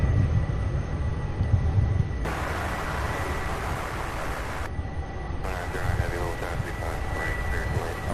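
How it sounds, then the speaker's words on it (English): A 17-year-old Southwest Boeing 737-700 arrives from Tampa at Louisville airport with a steady, broad jet roar that swells partway through and holds moderately loud, with no one talking. "we have Southwest Flight 1859. A 17-year-old 737-700"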